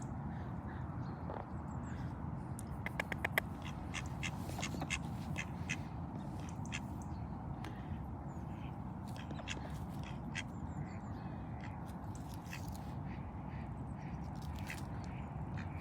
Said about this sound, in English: the ducks here are super, super friendly